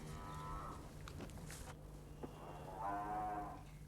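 Cows moo on a farm in two drawn-out, low calls, the second louder and longer, over a faint steady hum and background noise.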